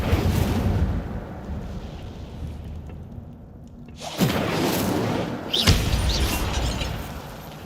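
Incendio fire spell cast in Hogwarts Legacy: a low rumbling swell followed by two sharp, bright whooshing bursts of flame a second or so apart, loud and close over a steady game-world background.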